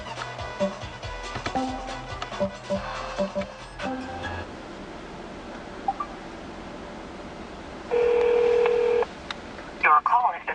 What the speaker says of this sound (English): you can call people by using your sync contacts or the manual dial pad as I'm about to demonstrate